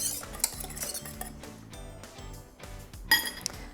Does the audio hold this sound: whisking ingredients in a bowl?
yes